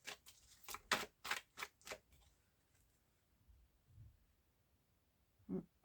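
Tarot cards shuffled and cut by hand, a run of crisp, riffling bursts in quick succession followed by quiet and one last soft slap of the deck, close and alone.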